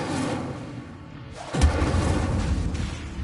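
A fire spell blasts off in the Hogwarts Legacy video game, a sudden loud boom and whoosh that swells midway and rumbles on in a sustained roar over a busy game soundscape.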